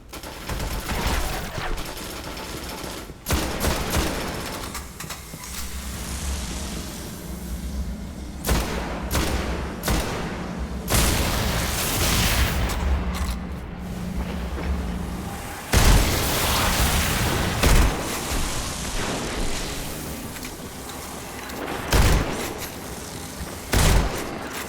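Turrets fire in Destiny: Rise of Iron, loud bursts of rapid gunfire and heavy booming impacts pounding almost nonstop, with a few sudden louder blasts amid dense game noise.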